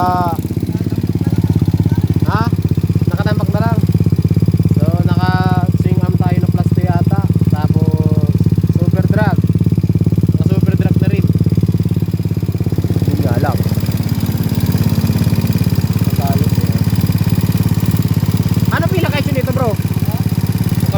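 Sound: Raider motorcycle engine idling

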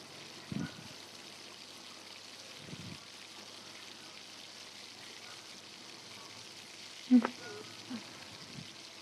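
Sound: duck meat being braised in a pan

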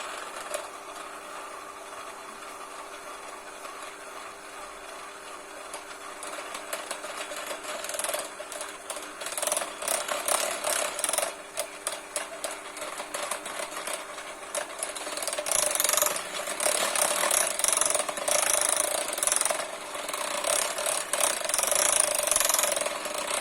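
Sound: electric mixer whisking cocoa into cake batter

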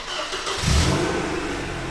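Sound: BMW car engine revving

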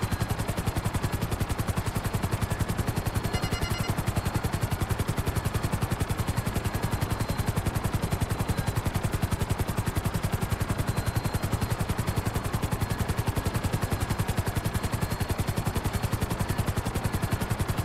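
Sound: helicopter flying in GTA 5 Online, video game

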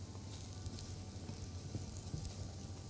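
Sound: stirring semolina in a pan

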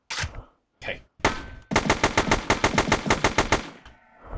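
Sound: gunfire hitting a cyborg in the video game Kepler22

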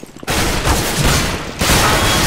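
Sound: shotgun and FAMAS gunfire in the video game CS:GO

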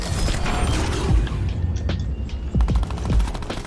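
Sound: gunfire in Fortnite video game

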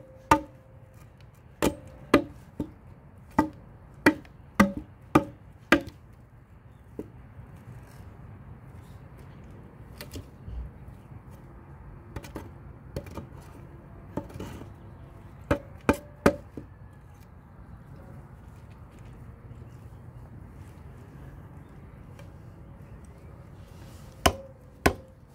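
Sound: chopping

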